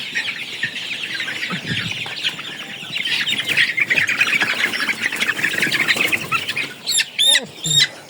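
Chickens squawk loudly and continuously as one attacks another, with bursts of frantic clucking and wing flapping building toward harsh, sharp cries near the end.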